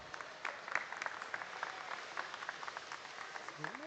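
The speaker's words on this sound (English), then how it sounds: "Let's go ahead and give them all a big round of applause." Applause for exhibitors at a junior breeding sheep show ring, a fairly faint, steady patter of clapping from a crowd with scattered voices beneath.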